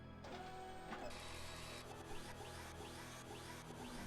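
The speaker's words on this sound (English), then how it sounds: "It's like a 3D printer." A duplication machine from the video game Resident Evil Code Veronica X runs with a quiet, whirring mechanical hum and sweeping servo-like zips, faint and continuous.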